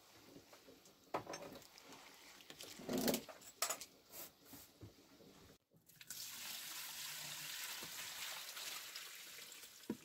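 Fresh spinach rinsed under running water in a kitchen sink: a few splashes and handling noises at first, then a steady, close tap stream pouring continuously for the rest.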